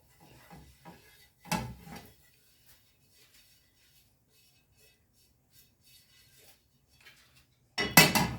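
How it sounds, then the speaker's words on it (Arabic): A crepe pan is handled on a gas stove while oil is added, several scattered metallic clanks and clatters of cookware with quiet gaps between them and a louder clatter at the end. "غادي نحتاجو واحد المقلاة ديال الكريب على هذا الشكل هذا"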